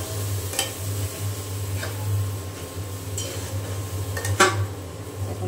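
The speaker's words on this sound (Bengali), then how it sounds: "এখন তেলের সাথে খুব ভালো করে আমি মশলা কষিয়ে নেব" Spice paste of ground spices with ginger, cumin and garlic pastes is worked into oil over fried onions in a pan, with scattered scraping and clinking of a utensil against the pot over a steady low hum.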